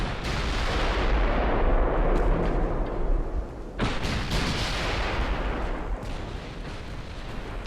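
Battleship naval guns firing in the warship game Ultimate Admiral: Dreadnoughts, with heavy booming salvos rolling together into a continuous loud roar, one sharp break partway through, then more dense rumbling fire.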